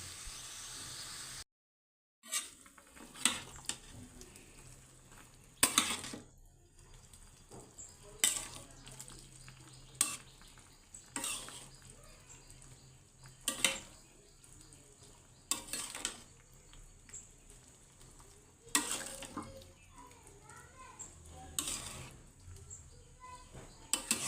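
A cauliflower, potato and whole soybean vegetarian curry being stirred in a pan, with soft sizzling underneath and a series of sharp scraping clinks from the spoon against the pan at irregular intervals.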